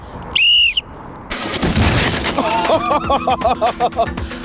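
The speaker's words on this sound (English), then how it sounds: "the pneumatic cannon's filled with nitrogen" A sharp whistle sounds, then a nitrogen-filled pneumatic cannon fires a football with a loud cracking blast of compressed air, followed by rattling and clattering noise.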